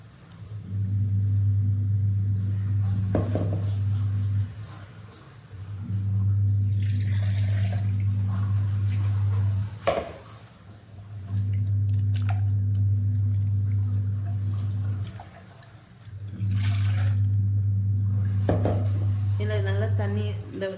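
Water is poured into a mixer jar and swirled to rinse out fenugreek batter, heard as four long, steady running-water spells with short pauses and a few clinks between them. The sound is fairly loud and close.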